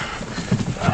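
Horse hooves clip-clop close by during a rescue scene in a 1960s Western drama, with a couple of louder thumps and a brief whinny-like burst over constant background noise.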